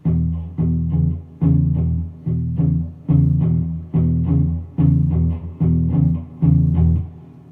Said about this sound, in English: just your basic blues rhythm, and it sounds like this